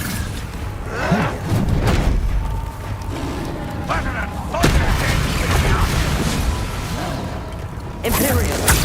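Explosive Confringo and Bombarda spells going off in the Hogwarts Legacy video game, a few sharp booming blasts and whooshes amid busy battle effects, with voices mixed in.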